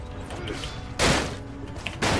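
Heavy banging on a door during a multiplayer Viking siege in Mount & Blade Warband, heard as loud booming thuds with crashing impacts over a dense game background.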